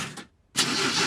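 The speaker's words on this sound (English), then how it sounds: "I will now start the engine." A cartoon car engine sputters, cuts out into a short silence, then grinds back up in a rough, noisy attempt that fails to catch properly.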